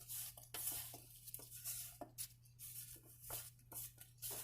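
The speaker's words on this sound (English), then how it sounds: "I am going to go ahead and just toss them around, move them around on the pan" Seasoned food is tossed around in a pan, faint scraping and shuffling strokes over a soft sizzle and low steady hum, nearby but quiet, with no talking.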